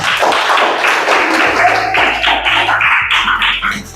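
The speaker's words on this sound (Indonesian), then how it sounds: "Kasih tepuk tangan teman-teman." Classmates in a classroom clap their hands after a group presentation, a close, lively burst of many overlapping claps that tapers off over a few seconds.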